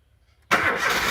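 A 2004 Ford Ka 1.6 with power loss and worn spark plug wires cranks and fires up abruptly after a half-second of quiet, the engine settling into a loud, rough running sound nearby.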